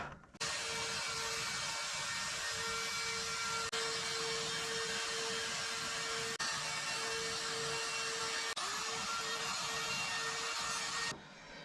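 A power tool cuts into the plastic dash of a 1999/2000 Pontiac Grand Am to fit a double DIN stereo, giving a loud, steady whirring grind with a constant whine that runs nonstop for about eleven seconds, with a few brief dips.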